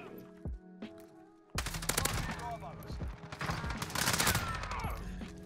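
Rapid gunfire bursts from a Modern Warfare Search and Destroy match, a few isolated shots early, then dense overlapping automatic fire that grows louder and fills the rest of the stretch.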